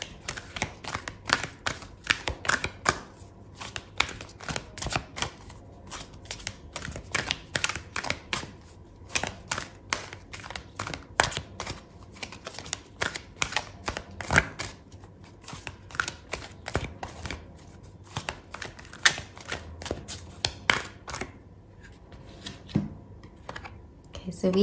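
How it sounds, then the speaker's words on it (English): Tarot cards shuffled at close range during a love reading, a long run of quick, dry riffling and tapping bursts with irregular pauses. "I'm gonna pull out a card for your advice"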